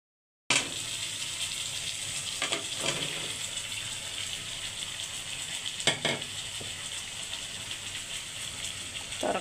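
Spice paste and bean curry with pabda fish frying in a pan, a soft continuous sizzle with occasional scraping stirs and clinks, fairly faint and without talk.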